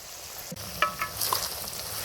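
Brinjal gravy with turmeric, chilli powder and garam masala being stirred in a pan, soft scraping strokes over a low steady sizzle, a couple of distinct clinks midway, close and moderately quiet with no talking.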